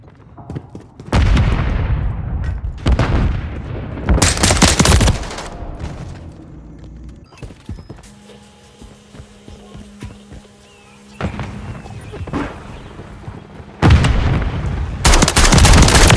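Heavy gunfire from a Call of Duty Team Deathmatch match on a Paris map, with loud bursts of automatic fire and booming shots separated by quieter stretches of game ambience.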